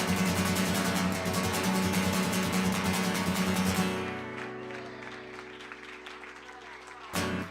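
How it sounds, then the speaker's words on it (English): An audience applauds a choreographed dance group with a burst of dense clapping over lingering music. After a few seconds it thins and fades to scattered claps and a quieter room, then a brief final flurry. "Give them a round of applause."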